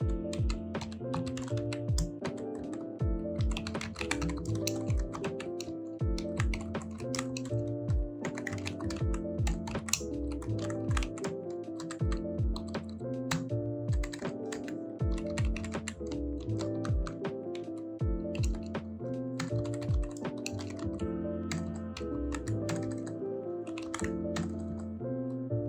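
Steady typing of code on a computer keyboard, a dense run of crisp key clicks with uneven rhythm that continues throughout, close and clear, with no voice over it.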